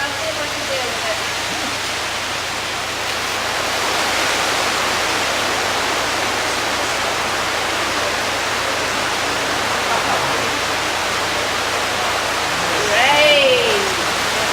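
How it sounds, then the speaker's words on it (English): Heavy rain pouring down over a market, a steady loud hiss that continues throughout, with a brief chirping sound near the end. "hear the sound of the rain coming thundering down on the market, coming down, down, down"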